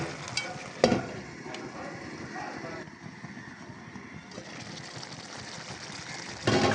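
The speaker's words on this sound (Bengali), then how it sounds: "এটাকে এখন আমি অনেক সুন্দরভাবে কষিয়ে নেব।" A spiced potato mixture sizzles while being stirred and fried in a pan, a steady low hiss with occasional louder scrapes of the spoon, close and alone without talk.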